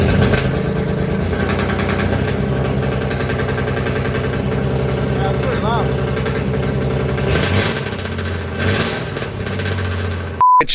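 A 1988 Toyota pickup with a swapped 3.4 engine and fully straight-piped exhaust, no cats or mufflers, idles loud and close with a deep, uneven burble, rising briefly in pitch before cutting off near the end.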